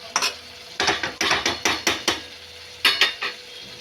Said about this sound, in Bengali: এই যে আমি পেঁয়াজ বেরেস্তাটা দিয়ে দিচ্ছি